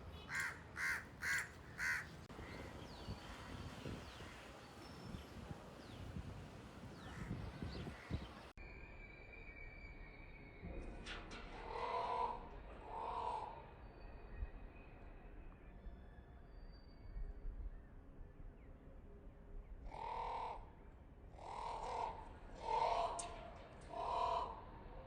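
Crows caw near a lake in Ahmedabad in repeated bursts of two or three harsh calls, moderately close, spread across a long stretch with a wash of background noise early on.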